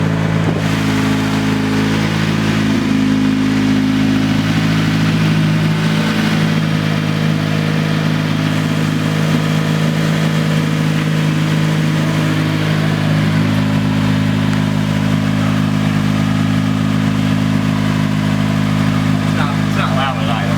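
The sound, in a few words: Honda CRX engine running and revving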